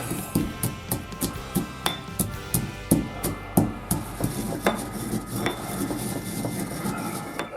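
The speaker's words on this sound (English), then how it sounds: "we're going to toast the black peppercorns and the caraway seeds, just lightly on medium heat. And as soon as that beautiful smell comes up, kill the heat. And we're going to ground the spices" Toasted black peppercorns and caraway seeds are ground by hand with a rhythmic series of sharp, hard knocks and clinks. The knocks come close and steady at first, then turn to softer, rougher grinding.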